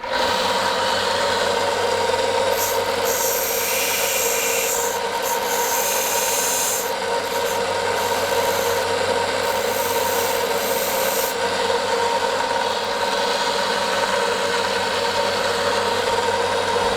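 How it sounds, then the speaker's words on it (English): Steady close rasping as a metal file strokes and bevels the rail ends of model railroad track, a continuous rubbing drone with a faint hum underneath and no talking. "I do that at the same time as I bevel these."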